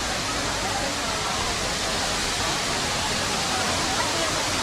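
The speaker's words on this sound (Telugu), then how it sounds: "చాలా పెద్ద ఉంది వాటర్ ఫాల్ అయితే." A large waterfall near a parking area at Chikmagalur makes a steady, dense roar of falling water that fills the whole clip without pause.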